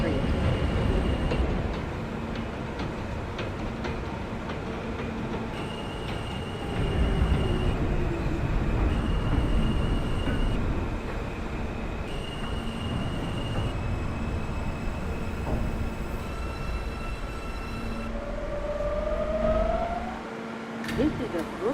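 Simulated R160 subway train on the J line running steadily with a constant rumbling roll, periodic tonal motor whines and a rising electric pitch near the end, under occasional onboard announcement speech.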